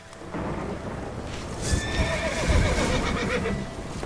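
A horse in The Witcher 3 video game whinnies clearly over clip-clopping hooves and a rumbling, stormy ambient background.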